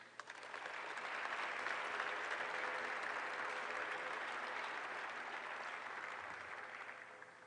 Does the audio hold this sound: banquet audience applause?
yes